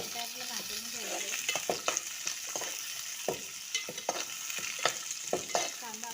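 Green chillies and curry leaves sizzle in hot oil in a pan, a steady frying hiss broken by frequent clinks and scrapes of a spoon stirring, close and moderately loud with no talking.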